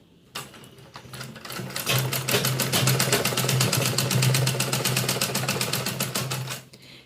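A sewing machine runs in a fast, even stitching burst lasting several seconds while sewing a vegetable organiser bag, starting up and stopping cleanly, close and alone.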